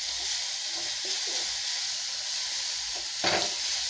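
Raw mango pieces frying in hot oil with turmeric in a home kitchen, giving a steady close sizzle throughout with a few soft stirring clinks and a brief louder spatter near the end.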